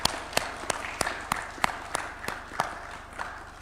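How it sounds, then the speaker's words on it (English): Applause from an audience at a formal agreement signing ceremony as signed copies are exchanged, heard as a fairly faint, distant wash of clapping with a few sharper individual claps standing out over roughly three seconds. "You can give them a round of applause."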